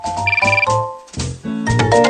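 A cell phone rings with a bright, repeating electronic melody in short bursts of tones, loud and close, with no talking over it.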